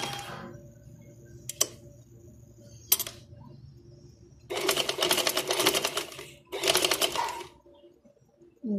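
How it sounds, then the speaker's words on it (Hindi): Domestic sewing machine stitching around a neckline curve with shortened stitch length, in short separate bursts of rapid mechanical whirring between pauses and small clicks, close and moderately loud. "देखिए, हम सिलाई लगाते जा रहे हैं गुलाई में।"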